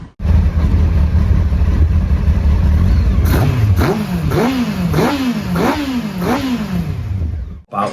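Engine fitted with short intake trumpets idling loudly, then blipped through a series of five or six sharp revs that rise and fall in a rhythmic, snarling pattern, close and alone.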